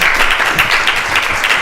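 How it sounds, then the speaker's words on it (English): Indoor audience applause at a community talk, a dense, steady wash of many hands clapping at close range, loud and continuous for a brief moment with no voices. "Please give her a warm round of applause."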